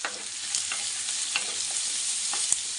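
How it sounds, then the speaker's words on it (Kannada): Onions fry in a pan for garlic rice, giving a constant bright hiss with a few faint taps and scrapes of stirring, close by and without speech. "ಇದನ್ನು ಇವಾಗ ನಾವು ಫ್ರೈ ಮಾಡ್ಕೋಬೇಕು"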